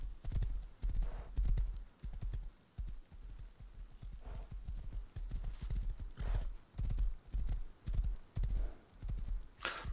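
Horse hooves gallop in the survival video game Rust: a quick, rhythmic clip-clop of hoofbeats runs throughout, with occasional whinny-like bursts. The sound is close and moderately loud.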